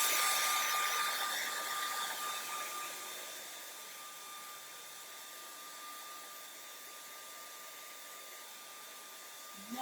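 A hair dryer blows steadily on a painted gnome hat, a constant airy whir that eases slightly in level and then stops abruptly at the very end.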